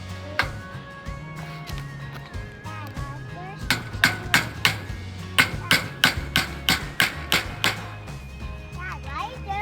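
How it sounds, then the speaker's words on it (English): Boards being hammered onto a backyard aviary frame, a run of sharp, close hammer blows in quick succession, with an adult and someone talking between and over the strikes. "We're hammering it on."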